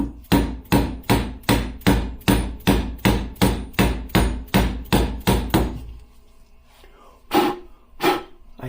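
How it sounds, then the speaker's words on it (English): A new fork seal is tapped into a BMW R65 motorcycle fork tube with a hammer, about fourteen sharp, evenly spaced blows in quick rhythm, then a short pause and two more taps. "push down on the seal and then just tap it down"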